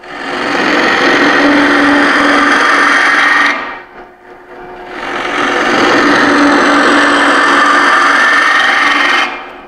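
A Stuart Mortimer gouge cuts wood on a lathe in a woodturning workshop. Two long, loud, hissing cuts are separated by a short pause midway, with no talking.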